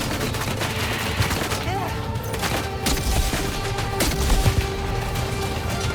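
Weapon fire in Death Stranding 2, a sustained loud volley of rapid gunshots and bursts over several seconds, dense and continuous rather than isolated shots.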